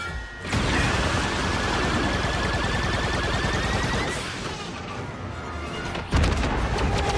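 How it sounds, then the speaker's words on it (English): Rockets launch and burst in a Star Wars Outlaws space battle, a loud continuous roar of blasts and rumbling impacts that eases briefly before a fresh sharp explosion near the end, no talk. "Oh, there's the rockets."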